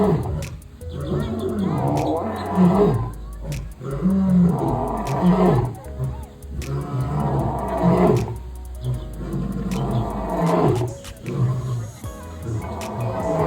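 Male lions roar at Big Cat Habitat in Sarasota, Florida, in a loud, close series of deep, pulsing grunts that repeat in waves with short pauses between them.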